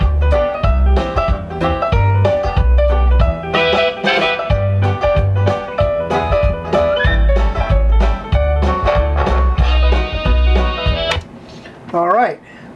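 Instrumental version of a song with no vocals, a rhythmic musical backing with a steady beat and bright melodic tones, loud and continuous before trailing off at the end.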